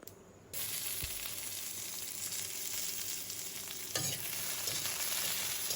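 Cumin seeds hitting hot oil for a fish curry, a sudden loud sizzle that bursts in and holds steady, with a stirring clatter partway through and no voices.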